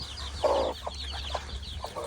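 A mother hen clucks in short, soft bursts, several low calls spaced irregularly, close by over a steady low hum.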